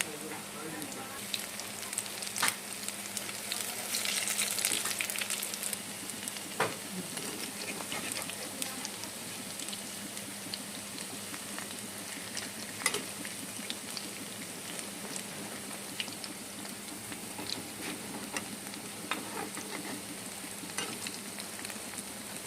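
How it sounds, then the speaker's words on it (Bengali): Pumpkin flower and red lentil fritters fry in a pan with a continuous sizzle. Sharp clicks and scrapes now and then come as they are turned, close and moderately loud. "বড়াগুলো এবারে এপিট ওপিট করে ভেজে নিই"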